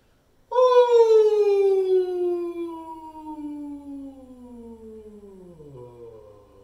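A single voice imitates a siren, a long sustained tone that slides gradually downward from high to low over several seconds.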